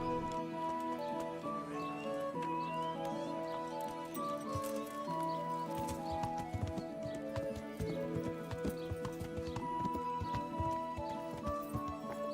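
Horse hooves clip-clopping in the video game Kingdom Come: Deliverance, a rhythmic run of hoof steps that starts partway through over steady background music, with a possible brief whinny.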